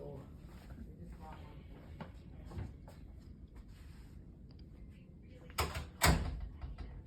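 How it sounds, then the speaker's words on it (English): A door swings shut in a quiet room. Faint shuffling leads to two close, solid knocks and thuds near the end. "let me close the door."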